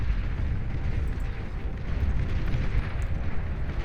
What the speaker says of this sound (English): Aggravators firing away, trying to blast these medium tanks